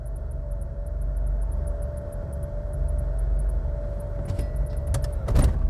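Idling automatic Austin Ambassador or Princess wedge-shaped British saloon held in neutral with a low engine drone and a high rhythmic ticking, then a jerky shift into drive ends in a clunk and a short jolt.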